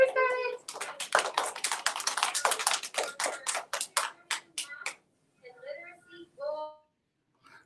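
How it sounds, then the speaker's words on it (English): Scattered clapping from a kindergarten class at a school awards assembly, sharp irregular taps for about five seconds that then stop, followed by faint sparse sounds. "Everyone clap for Scarlett."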